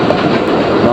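A Pakistan Railways diesel locomotive hauls the Allama Iqbal Express into Jahanian station, giving a loud, close, continuous engine roar with rumbling wheels, and someone talks over it.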